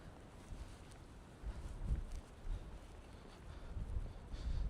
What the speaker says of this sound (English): It's a little windy out here today.